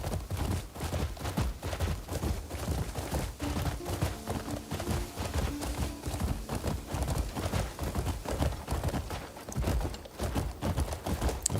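A horse's hooves clop in a steady, continuous rhythm over rough terrain in the video game Crimson Desert, close and moderately loud, with faint background sounds underneath.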